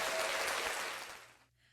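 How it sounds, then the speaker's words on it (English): A studio audience claps at a music show, a full burst of applause that tapers and cuts off into near silence after about a second and a half. "After the applause here."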